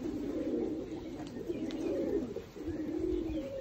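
Iraqi pigeons coo in low, repeated rolling calls, close and fairly quiet, over faint background ambience.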